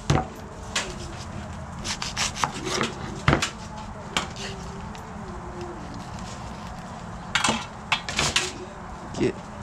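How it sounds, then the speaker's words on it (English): A knife trims the ends off a whole onion on a cutting board, giving a series of close, crisp chops and thuds with rubbing and handling noises between them, and a brief cluster of sharper cuts near the end. "Cut the ends of the onion."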